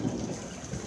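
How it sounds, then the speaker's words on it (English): Thunder rumbles low beneath steady heavy rain hissing on surfaces during a very rainy day in Canada, a continuous, moderately loud wash with no voices. "Did you hear that thunder?"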